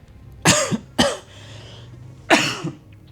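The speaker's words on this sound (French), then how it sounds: "1 mois que je tousse" Three harsh coughs from someone with a month-long sore-throat infection ring out close up, two in quick succession and then a third after a short pause, in an otherwise quiet room.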